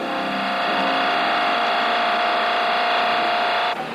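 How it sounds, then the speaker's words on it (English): High-speed cutters machining a solid metal wing section for a Lockheed L-1049 Super Constellation make a loud, continuous whine with steady tonal ringing and grinding, then cut off abruptly near the end. "The cutters work through the solid metal as smoothly as a hot knife through butter."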